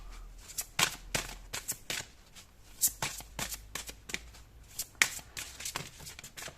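Oracle cards being shuffled and drawn by hand, with a rapid series of crisp papery flicks and slaps, close and fairly quiet, alone without talk.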